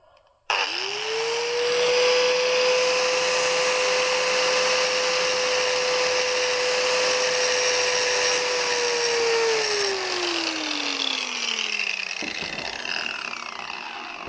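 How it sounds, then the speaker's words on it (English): An angle grinder spins up and grinds through a steel plate on a motorcycle chain, giving a loud, steady whine for about ten seconds before the pitch falls away as it winds down. "I'm just going to use my grinder and I'm going to grind through both of them on that plate."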